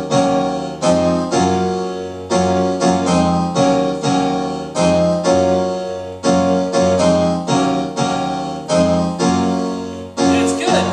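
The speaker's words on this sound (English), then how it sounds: "and the original piano actually sounds like this" Piano riff from a 90s house track, loud rhythmic stabbed chords repeating in a bouncy syncopated pattern, playing alone throughout.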